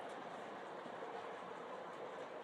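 A model PRR passenger train, with sleepers, a combine baggage car and an RPO car, rolls steadily along the track, giving a continuous rumble with soft clickety-clack at moderate, even loudness and no talk.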